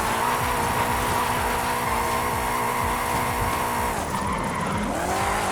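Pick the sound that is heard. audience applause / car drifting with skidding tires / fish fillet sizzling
car drifting with skidding tires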